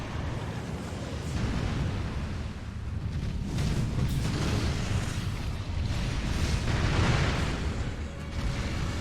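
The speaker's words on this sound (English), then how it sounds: "I think I need to use the firecracker for this other dumb beach" Firecracker bursts and booming blasts from Sekiro: Shadows Die Twice, a dense rumbling roar of explosive pops rolling on for several seconds at steady loudness, with no speech.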